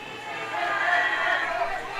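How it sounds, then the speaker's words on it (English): Wrestling crowd at a live independent pro match booing and jeering in displeasure at a heel's cheating, a steady, broad roar of voices filling the hall for the whole stretch. "The crowd letting him know they are not happy with their cheating ways, though."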